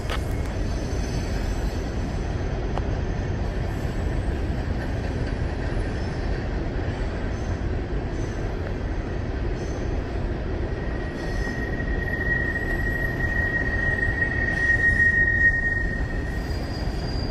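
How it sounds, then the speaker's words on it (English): Freight train wheels squeal on the rails while riding a grainer car, a sustained high metallic screech rising over the constant rumble and clatter of the moving train, loud and close. "I recorded some of that squealing in that last video like that, riding on that grainer."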